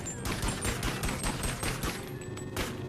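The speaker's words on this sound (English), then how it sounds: "I have to empty out like a whole magazine with precious bullets that I don't have" Rapid bursts of video game gunfire in BONELAB, a whole magazine emptied in dense, repeated shots that fill the clip loudly and continuously.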